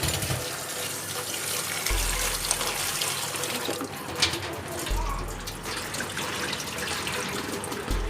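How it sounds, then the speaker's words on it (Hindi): Water runs from a kitchen tap into a sink as starchy water is drained off cut potatoes and they are rinsed, a steady splashing stream with brief gurgles and clatter, moderately close. "ये अब हमने गिरा देना है और आलू को वॉश कर लेना।"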